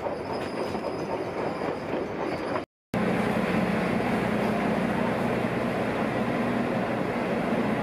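The Andean Explorer train in Peru, nearing Cusco, rumbles steadily along the rails with a constant low hum and rattling wheels, briefly cut out before continuing just as loud.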